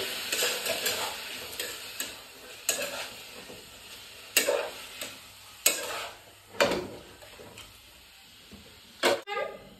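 Meat frying with salt and turmeric, a soft sizzle under repeated sharp scrapes and taps of a spatula stirring in the pan, close and intermittent.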